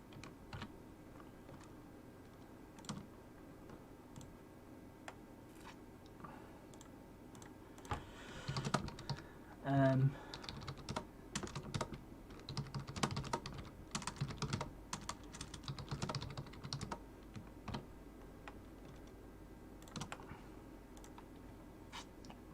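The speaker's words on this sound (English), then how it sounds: "You can hear me typing because I'm having a debation with" Computer keyboard typing during a football watch-along stream, faint and irregular clicks spread across the clip beneath a low background of broadcast sound and occasional louder bumps.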